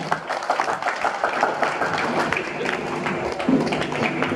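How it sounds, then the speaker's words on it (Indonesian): Guests at an 80th birthday party applaud, steady crowd clapping for a few seconds with some scattered individual claps standing out. "Beri tepuk tangan yang paling meriah."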